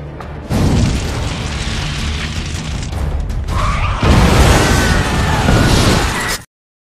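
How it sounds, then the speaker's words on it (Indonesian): A massive explosion rips through a shopping mall in a Final Destination film scene, a loud sustained roaring boom with rumbling debris that surges again midway before cutting off abruptly. "Nick berhasil membawa Lori keluar dari sana tepat saat ledakan besar terjadi"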